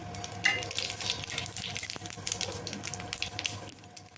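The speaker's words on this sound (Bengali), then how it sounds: "শুকনো লঙ্কা ফোড়ন আর গোটা জিরে ফোড়ন ফোড়নটাকে একটু ভেজে নেব" Dried red chilli and whole cumin seeds fry in mustard oil for a vegetarian ash gourd dish, giving a steady, fairly quiet sizzle and crackle close by with faint clinks, no talking.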